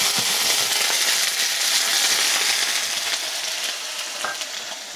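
Broccoli frying in a pan with a vinegar reduction, a loud, dense sizzle that crackles steadily and gently fades toward the end, with no voices over it.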